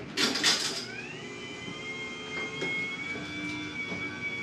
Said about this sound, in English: you'll probably hear my garage door open